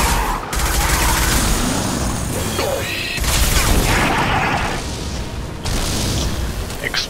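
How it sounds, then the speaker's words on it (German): Heavy rumbling explosions and blasts from the video game Mass Effect 2 roll on continuously, loud and close, with brief drops between bursts. "Explosion."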